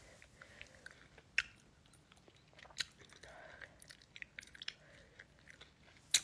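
Wax candy is bitten and chewed up close, with soft, quiet mouth sounds and sparse crisp crunches and snaps that stand out as sharp clicks. No one speaks.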